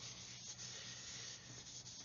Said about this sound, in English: You can see these sanding sticks, because they're new, they've got a nice